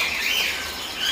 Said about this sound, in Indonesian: stok burung jalak kapas